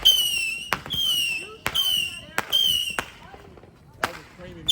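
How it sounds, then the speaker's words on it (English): Fourth of July fireworks burst in a row of loud sharp bangs, each followed by a long whistling, crackling trail, with a final distant pop after a pause. "Crazy fireworks."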